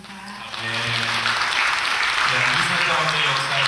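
A church congregation claps together at a Korean Baptist New Year's Eve service. The applause starts quietly and quickly swells into steady, sustained clapping, with faint voices underneath.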